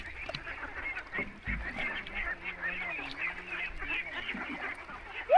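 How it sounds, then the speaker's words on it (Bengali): A large flock of farmed ducks on open river water in Bangladesh, honking and quacking continuously in a busy, overlapping chorus at moderate distance. "তো অনেকগুলো হাঁস কিন্তু দেখতে পাচ্ছেন দর্শক অনেক হাঁস"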